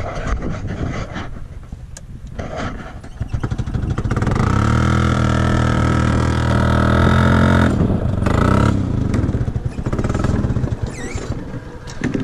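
An old Columbia ParCar utility cart, long left sitting, runs during a ride with its engine chugging close by, swelling into a steady louder drone midway, then easing back to a rougher, uneven running sound.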